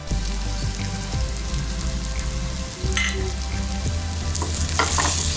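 Mutton liver fries in oil with turmeric, chili and coriander powders as a spoon stirs it, giving a close, crackling sizzle broken by repeated scrapes and clacks against the pan.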